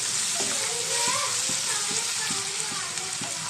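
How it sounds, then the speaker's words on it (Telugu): Onions frying in a pan in a home kitchen, a steady hiss of sizzling oil running throughout with occasional stirring clinks, and faint background voices. "ఉల్లిపాయలు బాగా ఫ్రై అవుతాయండి."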